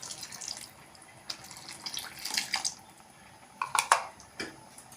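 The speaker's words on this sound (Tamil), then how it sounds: "நம்ம கரைச்சி வச்சிருக்கிற புளியை கரைச்சி ஊற்றிக்கலாங்க." Dissolved tamarind water is poured into a pot of sardine (mathi) fish kuzhambu, heard as faint, close splashes and trickles in short bursts, with a couple of sharper pours near the end.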